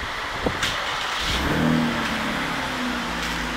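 Engine of a metallic grey Chevrolet Camaro RS convertible cranking to life, then settling into a steady, fairly loud idle with a brief rise in revs, heard up close with no talking.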